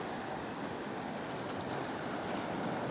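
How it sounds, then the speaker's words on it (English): Ocean swell and waves build beneath a sea arch on an Irish island coast, a steady, full wash of surf with some wind rush. No voices, constant and fairly loud throughout. "so now the swell's building again, slowly but surely."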